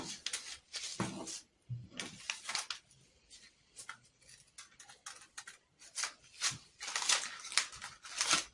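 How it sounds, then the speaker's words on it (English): Scissors snip through a paper blouse pattern for dart manipulation in a series of crisp, close cuts with short pauses, a denser burst of snipping near the end. "Then if you want to cut, you now cut it like this."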